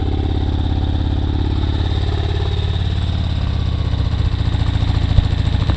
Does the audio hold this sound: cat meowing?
no